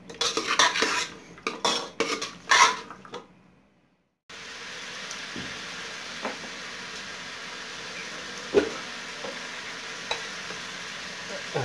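Aloo gobhi of potato and cauliflower is stirred in a pan with quick metal clatters and scrapes, then after a brief silence a steady frying sizzle runs on with an occasional tap.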